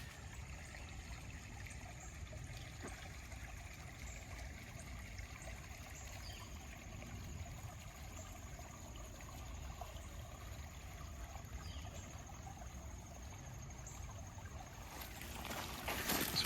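Cabin John Creek in the Maryland woods flows in a steady, soft wash of running water that holds constant and swells slightly louder at the very end, with no talking.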